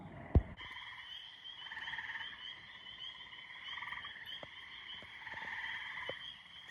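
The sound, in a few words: frogs croaking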